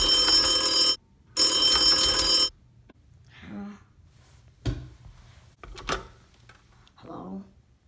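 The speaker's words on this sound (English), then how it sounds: "But my silence was broken by the phone." An office telephone bell rings loudly in two long bursts, then falls silent, followed by faint shuffling and brief quiet voices nearby.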